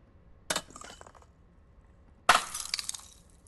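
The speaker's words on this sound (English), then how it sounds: "And so whether it's for a bottle smashing," A synthetic glass bottle smashing effect: two sharp crashes, the second louder, each followed by brief tinkling and scattering shards, set against near silence.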